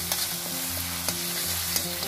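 Spice paste roasting in oil in a pan for a bhandara-style black chana curry, a steady low sizzle and crackle with a few soft stirring scrapes, close and alone with no voices.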